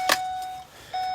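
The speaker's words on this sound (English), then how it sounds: "Sorry for the beeping" Warning beeps sound in the cab of a Ford-chassis Thor Chateau motorhome: one steady electronic tone, a short gap, then the tone resumes, fairly loud and close, with no talking.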